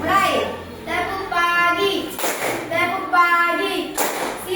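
A class of children clapping together in a rhythmic clapping chant, bursts of claps in time with sung or chanted voices, loud and close.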